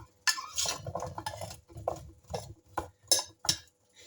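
Sliced potatoes are tossed and mixed in a glass oven baking dish, giving a quiet series of irregular clinks, taps and soft scrapes close by.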